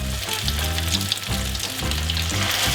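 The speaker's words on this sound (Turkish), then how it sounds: "Şimdi bunları böyle bir kızartacağız efendim." Steady, loud sizzling of egg-coated cauliflower rolls frying in a pan, crackling continuously with no talking.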